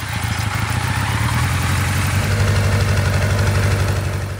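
A 1974 Kawasaki Z1A motorcycle engine idles close up with original Kawasaki exhaust, a steady, loud, throbbing rumble that holds an even rhythm throughout with no voices.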